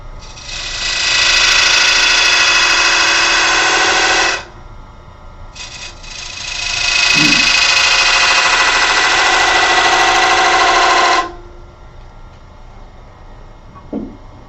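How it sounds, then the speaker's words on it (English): A thin skew chisel cuts the edges of a groove in a spinning wooden bowl on a lathe, giving two long, steady, loud scraping hisses with a short pause between them and no talking. "It's a rather thin skew, and cut the edges of that groove."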